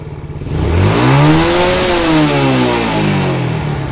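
Yamaha Jupiter Z motorcycle engine revved at full throttle, climbing to a loud high-pitched whine, holding, then easing back down while staying close and running alone.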